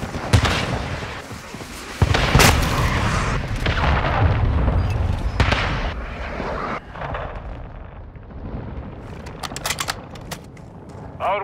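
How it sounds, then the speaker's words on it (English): Cruise missile strikes in Call of Duty Warzone: a series of heavy booming explosions with rumbling tails, several loud blasts early and middle, then fainter crackling and debris toward the end. "Friendly cruise missile deployed."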